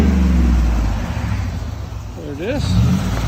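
Ford Expedition with a 5.4L V8 and a Vibrant exhaust muffler, its engine droning loud and steady at idle and rising in a brief rev near the end, with people talking over it.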